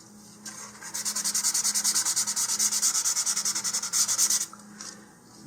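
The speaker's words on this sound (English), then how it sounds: "I'm going to go ahead and roughen up the tube again just like we did before" A rocket body tube being sanded by hand to roughen it: rapid, rhythmic back-and-forth rasping strokes, close and steady, in a burst of a few seconds with brief pauses.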